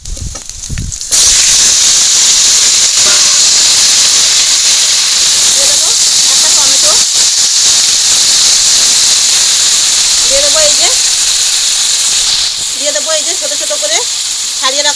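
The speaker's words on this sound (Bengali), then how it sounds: "লবণ হলুদ আর একটু তেল মাখা তেল মাখিয়ে রাখা এই যে চিকেনটা এবার দিয়ে দেবো" Oil-coated chicken, seasoned with salt and turmeric, goes into a hot wok with oil and sets off a sudden loud, steady sizzle and hiss. The frying carries on close and strong while someone talks over it.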